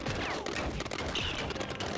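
Rifle gunfire in the video game Lego Indiana Jones 2: a rapid, loud burst of overlapping shots crackling through a busy fight scene, with no pause across the two seconds.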